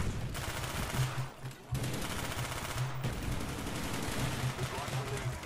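MP5K gunfire in the video game Black Ops 1, sustained rapid automatic bursts with brief gaps amid dense game noise, under a faint voice.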